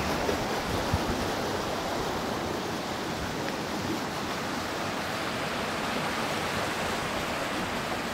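Water rushes in a steady, dense roar as a dam at Forestville drains down, a continuous broadband wash with no breaks, heard from nearby.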